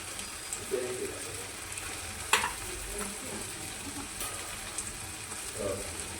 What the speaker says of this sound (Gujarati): હવે આ લોટમાં બોળી આપણે તળી લઈશું